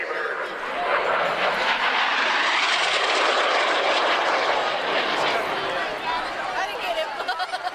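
A North American F-86 Sabre jet makes a high-speed pass down an air show line, a loud sustained roaring whoosh building and holding for several seconds, with crowd chatter faintly underneath.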